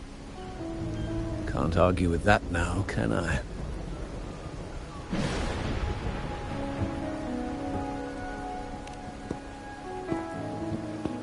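Steady rain patters throughout a scene in the video game Wuthering Waves, a continuous hiss on surfaces beneath character dialogue and game sound effects.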